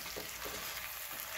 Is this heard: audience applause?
no